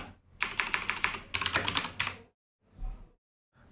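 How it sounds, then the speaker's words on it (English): Fast bursts of keystrokes on a computer keyboard, typing a comment into a word processor, close and crisp in two quick runs, followed by a couple of isolated softer taps after a pause. "you select a text you want to comment on, press the comment button, and type your comment"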